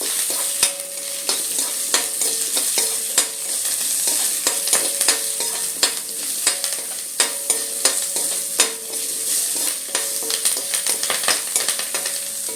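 Small onions, six or seven pieces, sizzle and crackle steadily in a hot pan for a Kerala piranda chammanthi, with frequent scraping and stirring knocks throughout and no voices.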